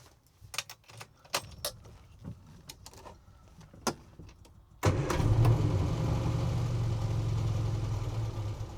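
An Austin A40 Farina classic car is started: a few light clicks and handling sounds, then the engine fires abruptly and settles into a steady, rumbling fast idle on a little choke, close and loud.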